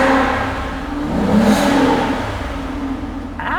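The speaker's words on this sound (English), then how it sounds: "This is one of the best sounding cars without any exhaust modifications." An Aston Martin Vanquish on its stock exhaust revs up, swells to a loud peak and then eases back, all in one smooth throttle sweep with no talking.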